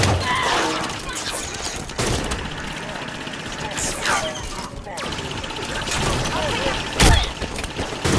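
Halo 5 video game gunfire crackles in bursts against a busy battle soundscape, with a sharp loud blast near the end and players talking over the action.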